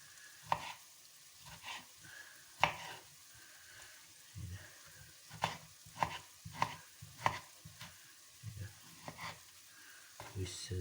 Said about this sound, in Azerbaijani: Bu şəkildə doğrayırıq